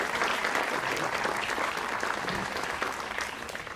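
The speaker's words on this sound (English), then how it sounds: "I think we should give them a round of applause." An outdoor audience at a civic band concert claps in a steady, dense round of applause, moderately loud and continuous throughout.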